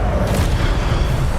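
An Incendio fire spell is cast in the Hogwarts Legacy video game, a deep, rumbling whoosh of flame that holds close and heavy for a brief moment.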